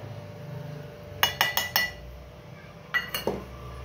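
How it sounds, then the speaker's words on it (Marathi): A spoon clinks rapidly against a bowl while milk powder is mixed into a little milk, in two quick bursts of sharp metallic taps over a quiet background. "आपण हे मिल्क पावडर आहे ही त्याच्यामध्ये मिक्स करून घेऊ"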